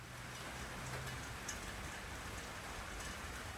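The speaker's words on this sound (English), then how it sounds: "It's actually really cool to hear the rain on the roof." Steady, soft patter of rain drumming on a roof, a dense even hiss with faint scattered ticks, no voices.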